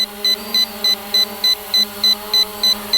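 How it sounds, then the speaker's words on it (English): An SG906 MAX drone's obstacle-avoidance warning sounds a steady series of short, high-pitched electronic beeps repeating about every third of a second over a constant low hum. "I'm getting the beep as if there's something in the way"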